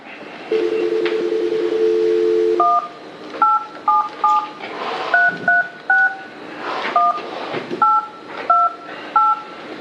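Telephone keypad dialing tones joining an AT&T teleconference line during a board meeting: a long steady dial tone, then a rapid series of short, evenly paced DTMF beeps, fairly loud and close with no talk.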